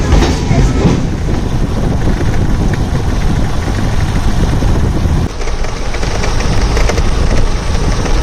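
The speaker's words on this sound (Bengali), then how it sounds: "কৃষ্ণনগর লোকাল চলে এসেছে" Krishnanagar local commuter train pulling into a crowded station platform, a steady close rumble of wheels and engine across the whole stretch with a brief dip near the middle, crowd noise and voices underneath.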